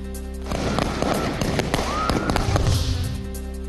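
Firecrackers set off in celebration outside the Anagar Nagar Panchayat office, a dense loud crackle of rapid pops and bangs, close and continuous for several seconds.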